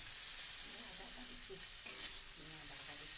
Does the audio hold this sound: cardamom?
yes